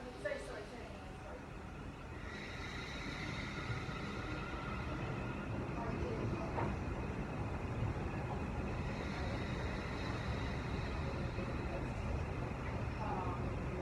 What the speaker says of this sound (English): we'll just let those trains go past